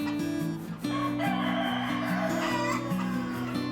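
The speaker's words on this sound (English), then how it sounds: "Have you ever wondered why chickens crow?" A rooster on a poultry farm crows in long, loud, drawn-out calls close to the microphone, with other chickens faintly clucking behind it.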